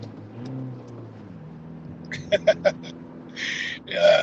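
A Toyota Hilux pickup with a 2-liter diesel engine pulls away and accelerates, its low engine drone rising in pitch at moderate loudness, with a few short sharp clicks and bursts of noise near the end.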